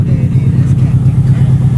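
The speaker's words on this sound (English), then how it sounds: "The Subi's getting warmed up" A Subaru car engine warming up idles with a steady low rumble at a race track, running continuously and fairly loud up close.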